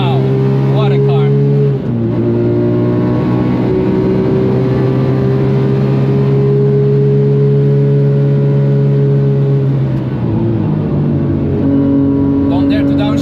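Porsche 997 GT3 RS engine screaming at high RPM around 8,000 on the Nürburgring, a loud sustained tonal howl with brief dips at shifts, heard from inside the car.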